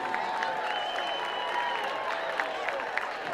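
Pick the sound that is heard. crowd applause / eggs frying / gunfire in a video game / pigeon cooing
crowd applause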